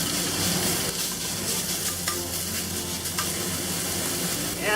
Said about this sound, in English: Let's add oil. And we'll cook up the pork first.